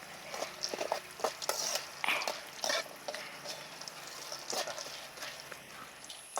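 Raisins and cashews fry in a pan while a spoon stirs them, giving quiet, irregular scraping and clicking strokes over a faint sizzle.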